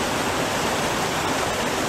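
A wild river flows in a steady, loud, unbroken rush of water close by, with no voices or other sounds above it.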